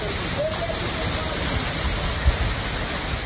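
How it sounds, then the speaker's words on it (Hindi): Waterfall in Amravati, Maharashtra, gushing with a steady, loud broadband roar of rushing water, continuous and unbroken, with no voices over it. "झरने की धार देखिए।"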